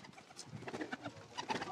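Pigeons cooing in a loft of racing pigeons, soft low throaty coos overlapping with faint rustling, quiet and brief.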